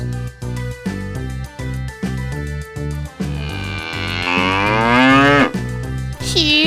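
In a fairy tale, a cow lets out a long, loud, drawn-out moo that swells and falls after a stretch of rhythmic beat.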